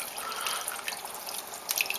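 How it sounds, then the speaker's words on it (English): Water pours into bolognese sauce in a cooking pan, a close, continuous liquid splashing and trickling with a few brighter splashes near the end. "But for that to happen, you need to add liquid. So either water or stock,"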